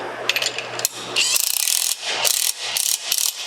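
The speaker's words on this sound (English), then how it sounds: "We'll tighten up this bolt." Ratchet tightening a bolt on a cattle head gate control assembly: loud, close, rapid clicking bursts of the pawl in several strokes, separated by short pauses as the handle swings back, with no talking.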